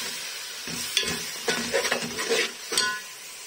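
Tomatoes and green chilies frying with onions in a pot for chicken yakhni pulao, with bursts of crackling sizzle and scraping stirs close up.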